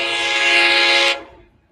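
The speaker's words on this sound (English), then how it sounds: "another train coming, it looks like." A train rumbles past up close, a loud broadband roar with a strong tonal whine that holds steady and then fades off quickly toward the end.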